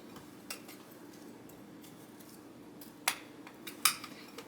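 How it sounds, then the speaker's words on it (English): Flour, room-temperature butter, brown sugar and ginger stirred together in a mug, with faint soft scraping and a few sharp clinks of a utensil against the ceramic, quiet and close, with no one talking. "And you want to stir it all together."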